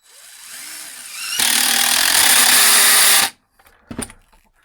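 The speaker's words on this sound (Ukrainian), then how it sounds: "Працює муфта, шуруп далі не крутиться." A DEWALT impact driver fitted with a clutch bit holder whirs up, then runs loud and close for about two seconds as the clutch slips and the screw stops turning. It cuts off abruptly, followed by a brief clatter.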